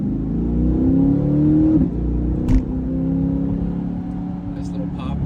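A C8 Corvette fitted with an AWE Track Edition exhaust pulls hard with a deep rising drone, briefly dropping between gear shifts with a small pop, loud and close inside the car.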